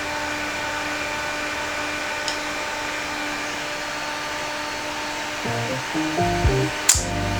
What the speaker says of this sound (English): So I go back in and take my handy dandy fan. And I just blow it on my face.